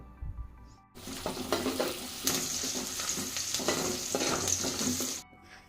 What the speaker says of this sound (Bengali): আর এখন হচ্ছে ডাল রান্না করতেছি